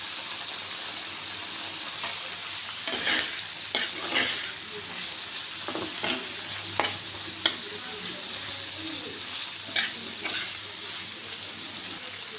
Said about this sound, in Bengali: এবার আমি মশলাটাকে দিয়ে দেবো, আর একটু ভাজা হোক